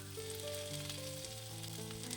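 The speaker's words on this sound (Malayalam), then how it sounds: "ഇനി തീയെ നല്ലവണ്ണം കുറച്ച് വെച്ചുകൊണ്ട് തന്നെ ഒന്ന് വറുത്തെടുക്കണം" Grated coconut with cumin and fresh curry leaves fries over low heat in a pan for a Kerala beetroot thoran, giving a soft, steady sizzle with crackling close by and no talk.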